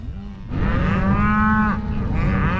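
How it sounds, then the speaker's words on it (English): Cattle in a pen, a cow mooing in one long, loud, close bellow that wavers and rises in pitch midway, with no other voices. "we'll try and get this other fella and cow and calf in here"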